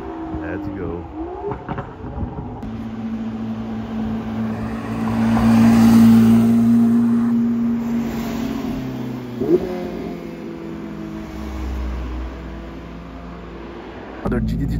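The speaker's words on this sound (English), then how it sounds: "Here they are allowed to do some revs" A car engine revs up and holds a steady drone, rising in the middle and easing off, with a short sharp burst near the end.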